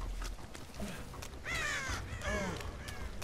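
Crows caw a few times in the game Dead by Daylight, the harsh calls fairly clear over a low ambient bed, with faint voices nearby.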